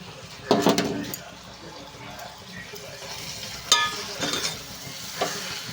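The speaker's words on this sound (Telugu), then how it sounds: "మసాలా, కారం ఇదంతా మొత్తం ఫ్రై అయిపోయింది" Masala and chili powder fry in a pan for Andhra-style egg bhurji, a low sizzle under several distinct bursts of spoon scraping and stirring clatter, near and fairly quiet.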